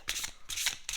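A deck of tarot cards is shuffled by hand in three quick bursts of riffling and sliding, close and crisp, with short pauses between.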